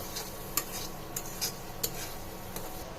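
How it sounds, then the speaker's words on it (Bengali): Spice paste for a prawn malai curry being sautéed in a pan, heard as faint, scattered spoon clicks against the pan over a low, quiet hiss, with no talking. "সুন্দর করে মশলাটাকে কষিয়ে নিব।"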